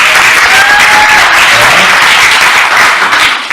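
An audience applauding loudly and close, a dense, even wash of clapping that holds steady for a few seconds before tapering slightly.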